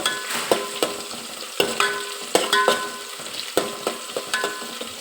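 Onions and green chilies fry in a pan, a close steady sizzle broken by regular rhythmic scrapes and taps of a spoon stirring against the metal.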